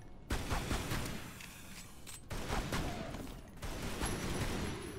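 Rapid bursts of gunfire in Tomb Raider Anniversary, fired at a gorilla, come as loud sustained volleys broken by brief pauses, with no talk over them.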